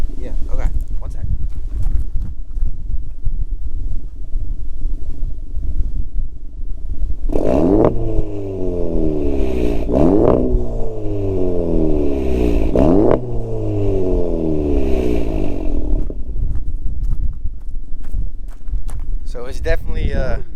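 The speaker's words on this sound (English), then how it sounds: "So it's definitely louder on the revving." A car fitted with an Integrated Engineering downpipe revs hard three times in a row outdoors, each rev rising and falling loudly over steady wind noise and background rumble.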